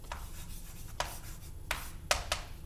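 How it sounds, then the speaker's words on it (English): Marker or chalk writing on a board during a math lecture, a few faint, brief scratchy strokes spaced apart in a quiet room with no talking. "I'm going to write down that"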